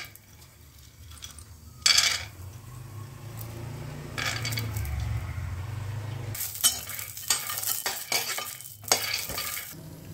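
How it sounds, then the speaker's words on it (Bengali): Peanuts dropped into a small amount of hot oil in a pan sizzle and crackle, with sharp bursts as they hit the oil and scattered stirring clatter, moderately close with no talking. "তেলটা গরম হয়ে গেছে, এবার দিয়ে দেবো বাদামগুলো"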